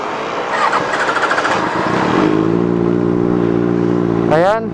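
A Benelli TNT 600i motorcycle fitted with a Two Brothers exhaust cranks over with a rough clatter, then fires into a loud, deep idle nearby, finishing with a sharp throttle blip at the end.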